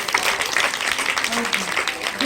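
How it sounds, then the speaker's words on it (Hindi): Audience applause at a Mother's Day celebration at a Hanuman temple, a crowd clapping steadily and fairly close for a couple of seconds, with voices talking underneath. "तालियां बजाइए विष्णु के लिए"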